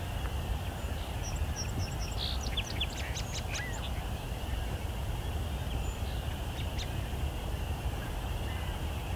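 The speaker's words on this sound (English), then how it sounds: "Lots of song sparrows." Song sparrows and American robins sing at sunset, a few faint distant phrases of chirps and warbles over a steady low outdoor rumble.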